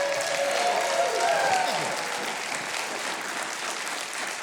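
A studio audience at a television talk show applauds the house band in a dense, loud, continuous wash of clapping and cheering.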